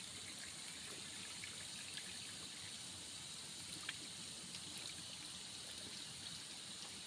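Spring water in a forest flows with a soft, steady trickling rush, faint and unbroken throughout, with no voices.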